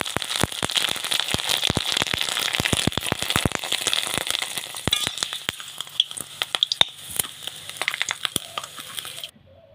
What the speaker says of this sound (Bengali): এভাবে আমি সবগুলি পাঁপড় ভেজে নেব।